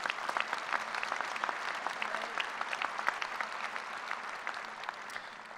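A large commencement audience applauds at a Kansas State University engineering ceremony, a steady, fairly distant wash of many hands clapping that continues unbroken throughout with no talking over it.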